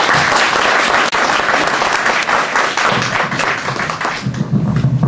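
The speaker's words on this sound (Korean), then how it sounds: "자, 그럼 또 똑같이 박수를 보셔야죠" An audience at a Korean election candidates' debate forum applauds: loud, close, sustained clapping from many hands that thins out toward the end as a voice begins.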